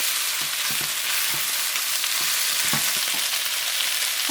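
Loud, even sizzling of chicken wings frying in a pan, with scattered pops and brief stirring knocks through the hiss and no talking.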